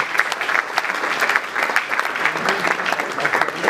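An audience at a Kinshasa music event applauding a DJ, a dense, steady burst of clapping from a crowd that keeps going evenly throughout.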